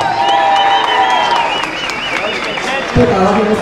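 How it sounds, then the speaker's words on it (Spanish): A loud, dense crowd at a Los Reyes Feos carnival-style show bursts into applause and cheering, with whistles and shouts riding over the roar throughout and a sharp thump near the end. "Recíbanlo con un fuerte aplauso."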